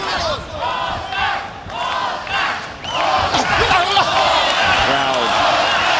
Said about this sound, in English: Crowd trying to rally support as the Oscar chant starts up again